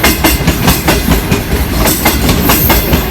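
A Green Line passenger train passes Malir railway station in Pakistan, loud and close, with a rapid regular clickety-clack of wheels over rail joints under a continuous rumbling roar.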